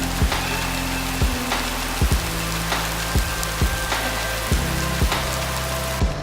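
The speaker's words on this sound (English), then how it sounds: "It is pouring rain." Heavy rain pours down steadily in a Hawaiian rainforest at Waimea Falls, Oahu, a dense continuous wash with a few sharper thumps and knocks close by.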